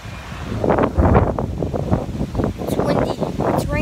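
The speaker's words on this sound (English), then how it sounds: "It's windy." Gusty wind buffeting the microphone outdoors in rainy weather, loud and close with uneven rushes throughout.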